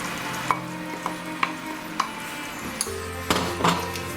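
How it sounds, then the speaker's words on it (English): Spices sizzle in a pan over low heat for a lamb bhuna, a steady close frying hiss broken by regular metallic clinks of a spoon stirring against the pan, with no one speaking. "So what I'm going to do now is add all these spices"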